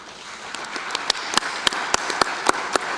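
Scattered handclaps at a Chamber of Commerce awards gala, about a dozen sharp claps at an uneven, unhurried pace over a quiet room background.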